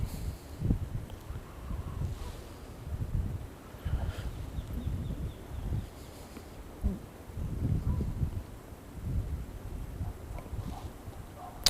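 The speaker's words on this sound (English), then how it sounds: "That wind is cold." Cold wind blowing outdoors while fishing, a steady low rumble of gusts buffeting the microphone, swelling and easing in waves with no voices.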